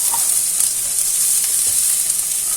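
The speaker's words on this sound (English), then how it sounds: "Now we will add the beans to it." Broad beans dropped into a pan of frying potatoes set off a loud, steady hiss and sizzle of hot oil that continues without a break, with no talking.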